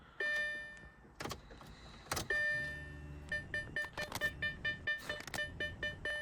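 Repeated electronic warning beeps sound inside a B7 Audi A4 2.0 TFSI during fuel pump priming, with a steady rhythmic chime mixed with clicks and mechanical clunks, fairly quiet and close.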